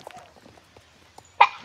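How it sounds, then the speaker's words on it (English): A single loud, close sneeze bursts out near the end, after a stretch of faint, quiet background sounds. "I sneezed."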